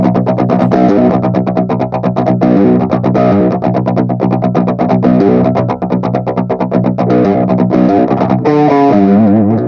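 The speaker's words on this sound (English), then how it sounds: "Distortion pedals compress the signal hard and add saturation immediately." A heavily distorted electric guitar through a distortion pedal plays a loud, compressed, driving riff with chugging rhythmic strums, ending on a sustained wavering note.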